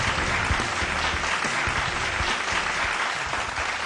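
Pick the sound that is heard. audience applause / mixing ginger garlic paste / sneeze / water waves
audience applause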